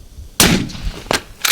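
A Sako 90 Varmint rifle in .22-250, loaded with Sellier & Bellot ammunition, fires one sharp, loud shot, followed by fainter echoing reports.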